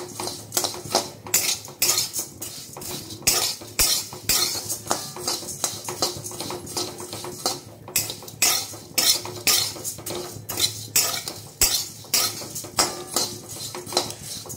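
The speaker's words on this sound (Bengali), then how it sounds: "চিড়েটা ভাজার সময় কিন্তু অনবরত নাড়তে হবে," Flattened rice is stirred continuously as it fries in a pan, a spatula scraping and clinking against the metal in quick irregular strokes, close and distinct, with no talk.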